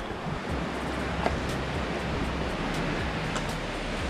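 A flowing river in the Brecon Beacons on the Cribyn walk: a steady, broad rush of water that continues unchanged throughout, with no voices.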